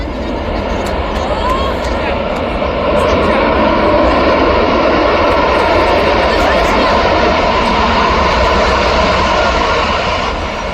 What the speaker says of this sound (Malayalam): ഇപ്പൊ ഇതാ ഇവിടുന്ന് ലാൻഡ് ആക്കുന്നെല്ലാം. ഇത് വലിയ ഫ്ലൈറ്റാ